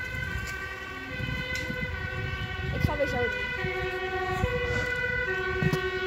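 An emergency vehicle siren wails with steady rising and falling tones that pass along a street near a fairground, partly under children's chatter and talk.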